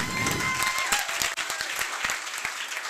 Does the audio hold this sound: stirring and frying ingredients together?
no